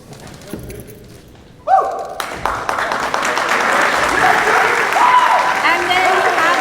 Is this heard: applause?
yes